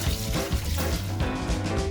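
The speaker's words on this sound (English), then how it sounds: "Rinse the rice thoroughly under cold water" Rice rinsed under cold running water, a steady close splash and patter of water washing over the grains, continuous and fairly loud with no voices.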